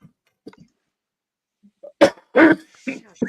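A few sharp, close coughs burst out in a quick cluster after near silence, preceded by faint small noises and breathy sounds.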